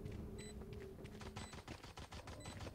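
Faint, rapid gunfire in the Valorant shooter game, a steady rattle of shots that sits low under the game's background hum with no voices.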